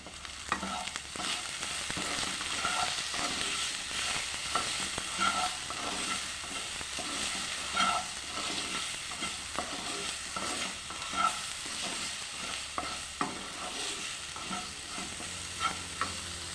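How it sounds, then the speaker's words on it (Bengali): Potato pieces fry in a pan with turmeric powder and salt, a steady crackling sizzle throughout with frequent scraping stirs and clinks, close and fairly loud, no talking. "আলুটা ভাজা হয়ে গেছে, তুলে নেব।"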